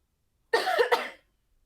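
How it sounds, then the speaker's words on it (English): A single short cough, close and fairly loud, with two quick bursts, surrounded by silence. "let me just quickly cough because my throat is dry"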